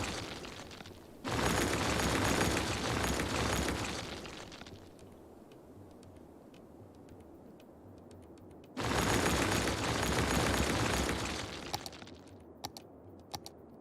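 Rail track being demolished in Cities: Skylines, two long loud bursts of crunching, rumbling noise separated by quieter stretches, then a few sharp clicks at the end.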